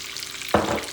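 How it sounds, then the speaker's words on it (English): Chicken browns in olive oil in a pan for chicken parmesan, a soft low sizzle that swells suddenly halfway through as a piece is turned or pressed down, brief and close. "I'm just lightly browning it on both sides."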